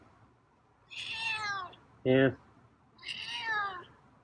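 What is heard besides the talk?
cat meowing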